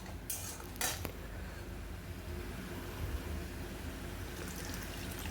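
Spice paste being sautéed for a Bengali katla fish curry, with metal utensil clinks against the pan early on and a steady low sizzle and stirring scrape throughout, close and moderate in level, with no talking.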